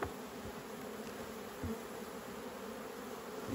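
Honey bees buzz steadily around an opened hive with little nectar, a dense continuous drone close by, with a few faint knocks of handling.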